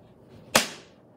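A wooden toy sword whooshes through the air once, a single sharp, close swish that rises quickly and fades away over a quiet background.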